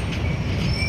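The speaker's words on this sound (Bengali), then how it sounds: "হ্যাঁ গুডস ট্রেন" A goods train rolls past close by, with loud rumbling wheels, metallic squeal and clatter filling the whole moment.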